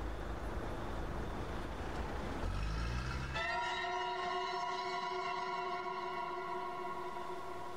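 In the horror game Terminal Terror a bus pulls away from a terminal, a rising engine drone that shifts into a sustained whining, tonal hum as it leaves, with no voices.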